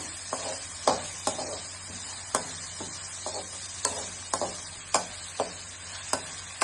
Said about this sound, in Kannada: ಅದನ್ನು ಬ್ರೌನ್ ಬರೋವರೆಗೂ ನಾವು ಅದನ್ನ ಫ್ರೈ ಮಾಡ್ತಾ ಹೋಗೋಣ